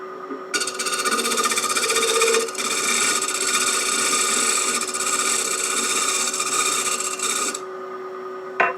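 A spear point scraper shearing wood for a DIY bird feeder makes a continuous close rasping scrape that runs for several seconds, with one brief dip partway through before stopping.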